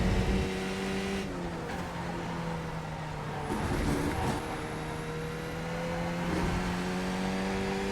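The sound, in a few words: race car engine on throttle, sim racing video game at VIR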